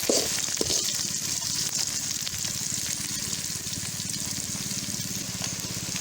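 Onions, crushed garlic and country curry leaves sautéing in a pan for crab rasam, a steady close sizzle and crackle of frying oil that runs unbroken throughout.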